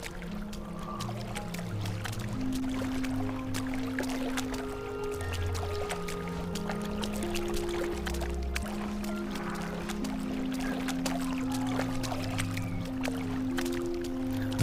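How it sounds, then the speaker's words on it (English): Water lapping and sloshing at a seaplane base, a soft, continuous wash of small splashes close by with low tonal hum beneath, steady and moderately quiet throughout. "Hear the laps of the waves."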